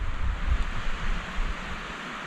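Storm wind roars steadily outside a plastic-sheet emergency shelter, a loud continuous rushing with low buffeting on the microphone and no voices.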